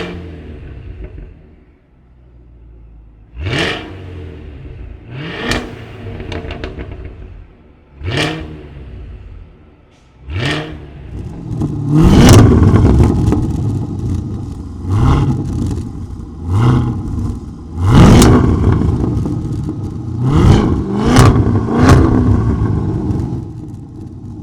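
A Cadillac CT5-V Blackwing with a Magnaflow exhaust, extremely loud and close, blipping its engine in several short sharp revs, then launching into longer, rapid, aggressive revving bursts.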